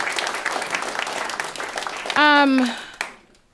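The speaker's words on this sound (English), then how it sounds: "So you all could clap for that." Audience clapping at a literary event mixed with voices, then a brief loud squealing tone cuts in before everything fades away.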